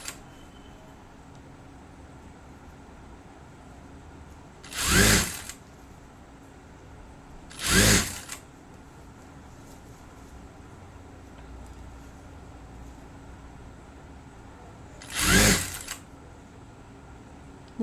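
A sewing machine stitches along the neckline of a blouse in three short, distinct bursts spaced several seconds apart over a quiet room background.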